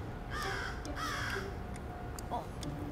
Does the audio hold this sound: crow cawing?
yes